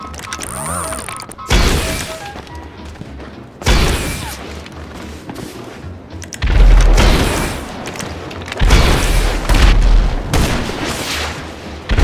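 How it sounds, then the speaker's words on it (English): Rockets fire and explode in a video game, several loud booming blasts arriving at irregular intervals, each followed by a crackling, rumbling tail, with mechanical clicks in the quieter gaps between them. "Spam the rockets, buddy."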